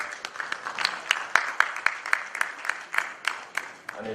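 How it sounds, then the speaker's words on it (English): Audience applause at the 2019 African Bar Association annual conference in Liberia, heard as a steady patter of hand claps with a few sharper accents, moderately near and without talk. "A round of applause for that."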